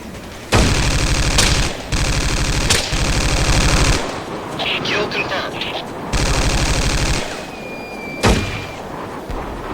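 Bursts of machine gun fire from an enemy machine gunner in Ghost Recon Wildlands, with a sound mod: several long sustained volleys, loud and close, with short gaps and scattered quieter shots and impacts between them.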